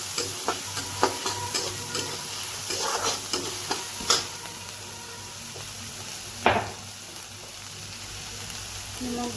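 Onions fry and sizzle steadily in a pan while a utensil scrapes and stirs them in repeated strokes, with a few sharper knocks against the pan, close and fairly loud with no talking.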